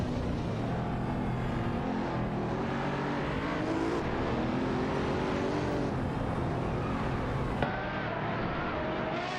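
Pagani Huayra BC race car engine in an AI racing game, a steady loud drone with shifting pitch that rises and falls as the car moves through traffic, continuous throughout with no pause.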